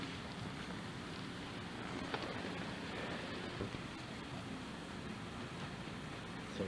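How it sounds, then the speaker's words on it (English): Steady broadband wind rushes without a break, a constant outdoor roar with faint buffeting gusts and no voices. "It's really windy out."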